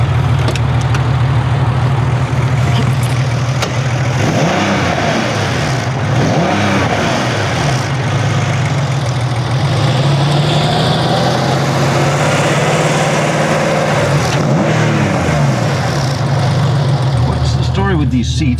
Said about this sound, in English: So this is my 1996 Carrera 2 with the Dansk Sport exhaust, and wanted to give you a little sneak peek in what it sounds like.